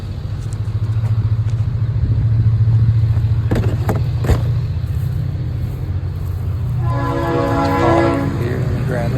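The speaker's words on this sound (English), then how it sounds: "Those trains are busy this morning." A train passes nearby during a curbside scrap-metal stop, a steady low rumble filling the scene throughout, with a few sharp clanks and a short tonal horn-like blast near the end.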